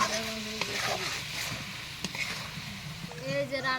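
Dried fish cooking with tomato is stirred in a pan, giving a steady sizzle broken by scraping stirs, while a voice talks over the cooking.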